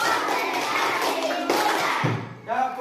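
Schoolchildren clap in a classroom counting game, a busy patter of many small hands that is loud and steady, then drops off as young voices chatter at the end.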